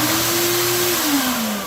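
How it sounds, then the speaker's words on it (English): A shop vacuum serving as a dust collector on a 2-inch PVC system runs with a steady, loud drone and a tonal whine that sinks slightly in pitch toward the end, with no talking over it. "Now we just leave the actual vacuum on all the time, and I turn the switch on and off."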